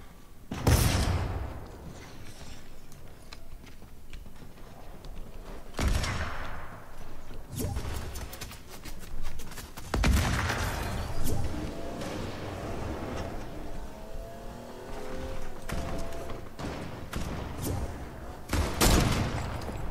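Gunfire and sniper shots ring out in a shooter video game: loud, sharp cracks and booms come at irregular intervals, with rattling bursts and lingering echoes between them.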